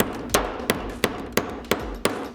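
A hammer strikes six times in a steady, even rhythm in a workshop, each blow a sharp close metallic knock with a short decay.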